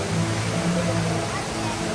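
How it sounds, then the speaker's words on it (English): Large indoor waterfall at Jewel, Singapore Changi Airport, giving a steady, dense roar of falling water that fills the space evenly throughout, with a faint hum of the busy terminal beneath. "Look at the waterfall."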